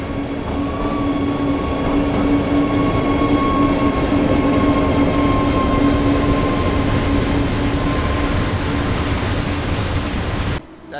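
A class 187 diesel multiple unit rolling along the line in Train Sim World 3, a loud continuous rumble with a steady engine drone and faint whine that holds evenly before cutting off abruptly at the end.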